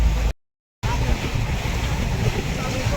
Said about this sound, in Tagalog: Medyo mabagal lang po takbo namin kasi malaki po ang alon.